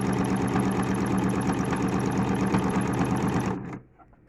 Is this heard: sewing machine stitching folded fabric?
yes